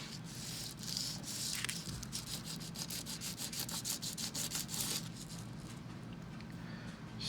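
Rhythmic rasping strokes sanding a guitar saddle from a vintage 1970s Yamaha FG-75, repeated back and forth at a steady pace, close and fairly quiet.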